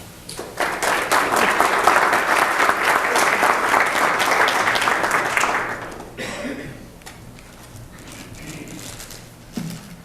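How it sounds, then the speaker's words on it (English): A graduation award ceremony audience breaks into loud, sustained applause, many hands clapping together for several seconds before it thins out and fades to scattered claps and room noise. "And it's good that you clap, because she's going to do it."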